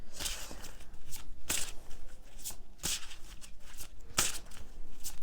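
Tarot cards being shuffled, with a series of sharp riffles and flicks at irregular intervals over a quiet room, close but soft, with no talking.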